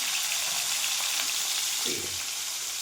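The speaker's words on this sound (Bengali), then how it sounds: "এখন করলাগুলো দিয়ে দিব, তেল গরম হয়ে গেছে" Bitter gourd fries in hot oil with a dense, continuous sizzle and a few soft stirring scrapes, heard close and alone.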